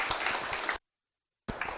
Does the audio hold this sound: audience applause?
yes